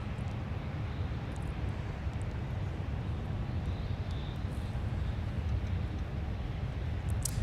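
Steady broadband roar of an airplane taking off from runway 17 at Minneapolis–St. Paul airport, loud and continuous, heard from a distance without any voices.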